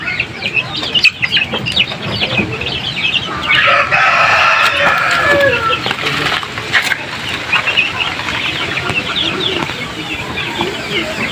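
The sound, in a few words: chicks in a coop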